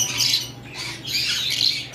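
Lutino red-eye Fischer's lovebirds squawk in loud, harsh bursts, about three shrill calls in quick succession, close by with no talking.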